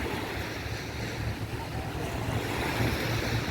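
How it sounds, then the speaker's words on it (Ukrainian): Sea surf rumbles and washes continuously onto the shore at Durrës, Albania, mixed with heavy wind buffeting the microphone. "Сьогодні такі хвилі навіть накатують"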